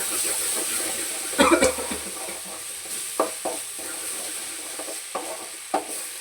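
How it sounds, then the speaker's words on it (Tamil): Ginger garlic paste sizzles steadily in a hot pan for a village-style country chicken curry, with a constant frying hiss broken by several louder stirring scrapes and clatters near the pan. "இஞ்சி பூண்டு பேஸ்ட் நல்லா வதங்கி வருது"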